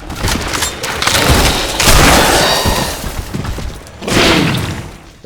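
Rocket launcher explosions in the video game Shadow Warrior 2, a run of loud booming blasts with crackling debris, swelling in several waves across the clip with no talking.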